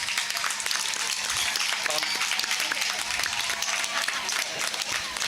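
At the inauguration of a district-level throwball match, an outdoor crowd claps steadily in a scattered patter of applause while a voice talks over it.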